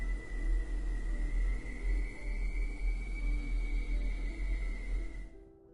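Creepy ambience sound effect: a low, steady rumbling drone with a sustained eerie high tone held over it, continuous for several seconds before cutting off abruptly, with no voices.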